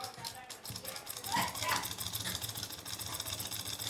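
Sewing machine running steadily as it stitches a curved seam on a suit, with a voice talking over it throughout.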